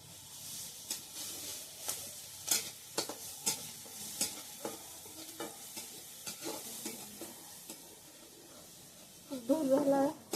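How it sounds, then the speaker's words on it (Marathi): Cumin and mustard seeds tempering in hot oil in a kadhai, crackling and popping in irregular bursts with stirring scrapes, a louder flare near the end, and some talk. "फक्त जिरी मोहरी फोडणी द्यायची त्याला."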